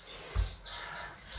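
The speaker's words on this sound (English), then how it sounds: "the birds are tweeting." Small birds tweet outdoors in quick, high chirping bursts, fairly loud and continuous through a doorway, with a faint low thump underneath.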